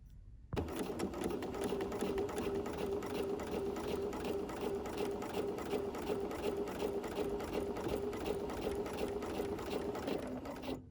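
A sewing machine stitches pieced fabric for quilting in a steady, fast, even chatter that starts abruptly, holds a constant close hum throughout and stops near the end, with no talking over it.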